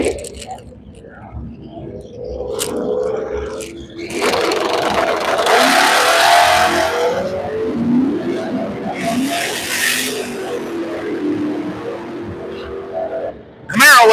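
Drag racing cars, including an LT1 Camaro and an International, rev and launch down a strip, their engines swelling in loud roaring bursts under an announcer's steady talk.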